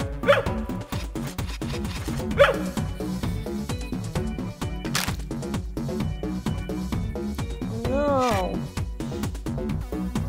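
A dog in the mobile puzzle game Fidel Dungeon Rescue barks and yips several times over game music, with sharp repeated bow-wow calls standing out clearly.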